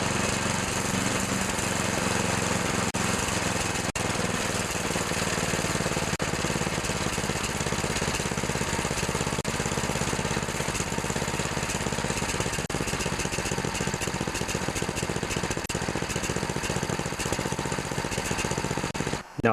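A snowblower engine idles steadily after carburetor adjustment, a loud, continuous small-engine drone with a slight uneven chug, close by and running alone for the whole stretch.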